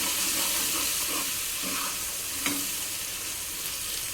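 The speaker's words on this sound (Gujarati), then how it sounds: "એ બધું નાખ્યા પછી આપણે સરસ મજાનું હલાવી લઈશું." Chillies and tomatoes sizzle steadily in a frying pan while being stirred, a continuous close frying hiss with soft scraping strokes and one brief louder clink midway, no talking.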